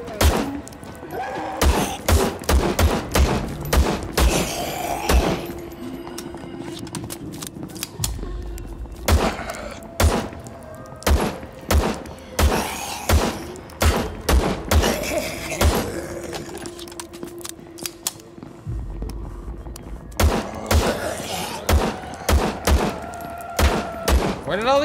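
Rapid bursts of gunfire from a 150-round gun in the video game VLADiK BRUTAL, loud sharp shots in dense volleys with brief pauses around the 8 and 19 second marks, plus thuds and impacts between them.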